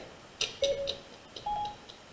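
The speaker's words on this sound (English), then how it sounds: "Oh, my phone thought I was talking to it." A smartphone voice assistant activates with a short pair of electronic tones, rising then steady, clear and close in a quiet room with no talking.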